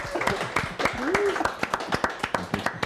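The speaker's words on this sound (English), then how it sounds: "So can we just give him a round of applause, people in here?" An audience at a conference session claps, with a scattered burst of hand claps rising over a voice that talks through the start.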